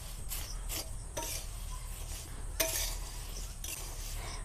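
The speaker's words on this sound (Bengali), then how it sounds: "ভালো করে মিশিয়ে নিতে হবে।" A flattened rice mixture is stirred in a bowl, with a spoon making repeated scraping, rubbing strokes in an irregular rhythm, close and fairly quiet with no talking.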